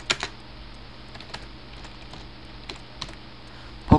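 Computer keyboard keys tapped while typing a game name into a search box: a few sparse, close clicks spread over four seconds, with a louder clatter at the very end and no talking.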